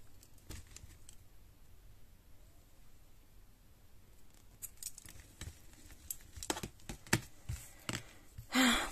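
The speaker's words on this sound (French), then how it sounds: "je coupe les fils sur lesquels j'ai crocheté par-dessus" Scissors snip crocheted yarn threads on a small keychain bag, a few quiet, close clicks and cuts after several seconds of near silence, ending in a brief rustle.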